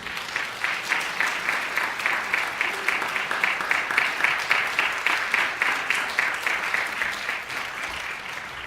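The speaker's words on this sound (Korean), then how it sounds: "박수만 해주시면 감사합니다." A church congregation in Korea claps together in a steady rhythmic beat, many hands striking in unison at a brisk regular pace for several seconds, moderately loud and close.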